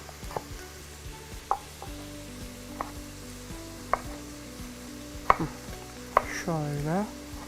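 Tomato and rice sauté in a pan with a soft, steady sizzle, broken by scattered clinks of a utensil against the pan and a brief squeaky scrape near the end.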